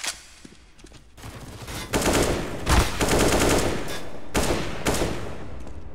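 Rapid automatic gunfire in a shooter game, loud and close, with quick rattling bursts repeating in several clusters after a quieter opening.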